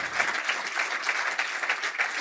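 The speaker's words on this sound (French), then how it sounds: "Vous pouvez l'applaudir." An audience in a French evening event applauds a guest, a steady patter of many hands at moderate loudness, sustained without talk.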